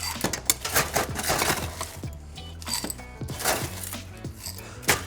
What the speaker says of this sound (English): I'm going to add some crushed ice in order to do that.